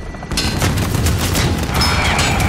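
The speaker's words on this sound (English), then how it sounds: "I killed myself with my rocket" A rocket blast in a shooter video game, loud and close, kicking in suddenly after a short silence and followed by sustained rumbling explosions and crackling gunfire that persists to the end.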